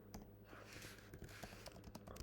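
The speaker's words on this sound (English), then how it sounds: "Let me type it out properly." Quick, soft clicking of typing on a computer keyboard, irregular keystrokes in short runs, faint and close with no talking.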